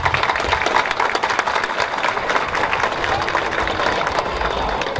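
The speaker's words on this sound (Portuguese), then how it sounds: "uma forte salva de palmas" The congregation at an outdoor Missa do Vaqueiro on a farm in Soledade, Paraíba, breaks into strong applause, dense sustained clapping from a large crowd with a low rumble underneath.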